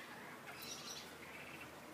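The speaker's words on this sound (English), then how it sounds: "of our lorikeets with the open aviary" Lorikeets in an open aviary give a few faint, high chirps near the middle, set against steady background hiss with no clear voices.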